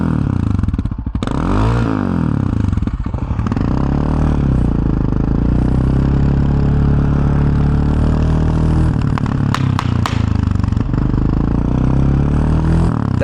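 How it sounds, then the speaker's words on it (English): A Yamaha Raptor 700R quad on a street at dusk revs loudly, its engine note sweeping up and down, then lets off a quick cluster of sharp exhaust pops and crackles before settling back to a rumbling idle. "That exhaust popping is insane."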